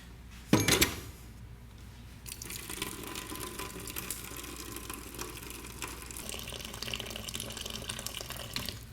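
Tap water gushes steadily into a bucket holding espresso portafilters, a continuous splashing fill that starts with a brief louder burst and carries on evenly throughout.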